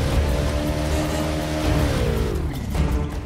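Car engine hum from a driving sequence in the Uncharted: Drake's Fortune video game, steady and loud with harmonic tones that hold, then drop in pitch as the vehicle slows, over a constant rumbling road noise with no talk.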